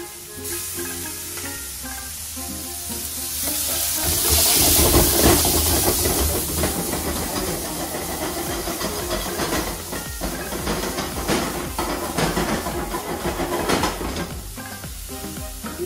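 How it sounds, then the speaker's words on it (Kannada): Onion and capsicum sizzle and hiss steadily in a hot pan for white sauce chicken pasta, with a louder surge of frying partway through and occasional stirring clatter. "ಆನಿಯನ್ ಮತ್ತು ಕ್ಯಾಪ್ಸಿಕಮ್ ಹಾಕಿ ಸ್ವಲ್ಪ ಬಿಸಿ ಮಾಡಿಕೊಳ್ಳುವ"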